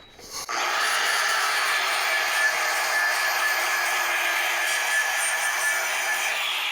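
Angle grinder working steel on a kitchen bench build, a loud, steady, close whine that starts abruptly and runs continuously with no talk.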